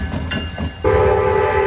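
A helper locomotive rolls back downhill after shoving a unit train up a steep grade out of Aberdeen, North Carolina. Its engine swells in suddenly, then holds a loud, steady drone near by.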